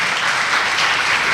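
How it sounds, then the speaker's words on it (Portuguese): A church congregation claps during a worship service, dense continuous applause filling the room at close range, loud and steady with no voices over it. "Pode aplaudir o Senhor."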